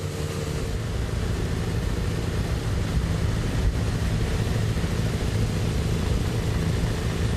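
A convoy of Russian bikers on motorcycles pulls out of St Petersburg, heading for the Finnish border; a dense, steady roar of many engines rumbles continuously with no break.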